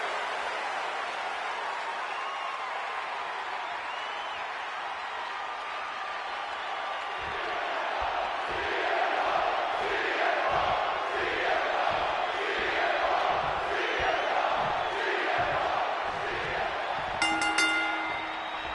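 Arena crowd noise swells and cheers steadily throughout a WWE 2K26 wrestling match featuring CM Punk, a broad roar growing louder after the first few seconds, with a brief bright electronic chime near the end.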